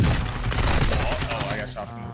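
Heavy video-game gunfire, dense overlapping shots and booming thuds, loud and close throughout, with a voice talking over the barrage.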